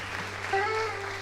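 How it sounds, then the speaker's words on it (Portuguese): Church congregation applauding in honor of the mothers present during a service: soft, steady applause heard at a distance, with faint sustained tones underneath. "convido a igreja a oferecer a Deus uma linda salva de palmas por todas as mães que aqui estão"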